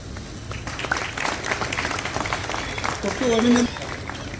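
An audience at an award ceremony for bright students claps to welcome a guest, steady applause from a crowd with a voice talking over it.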